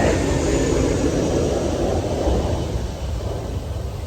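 Airplane passing overhead, a broad steady roar that is fairly loud at first and slowly fades, with no one speaking.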